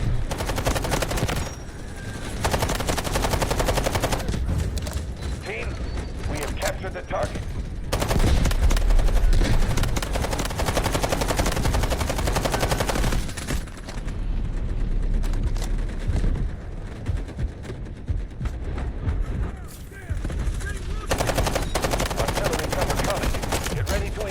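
Automatic gunfire sweeps the area in the video game Delta Force, loud dense bursts of rapid shots that run nearly continuously with a few brief pauses.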